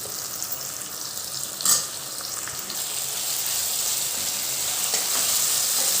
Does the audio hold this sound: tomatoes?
yes